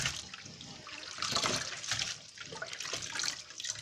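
Running water splashing as salted, fermented leafy vegetables are rinsed by hand, a steady close hiss with uneven swells of splashing throughout, no voices.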